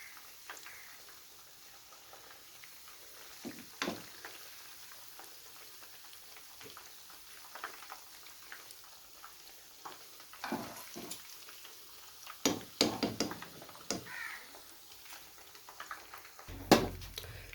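Fish frying in a pan over a slow gas flame in a Peshawari fish fry recipe, a soft steady sizzle with scattered clicks and a few louder utensil knocks and scrapes.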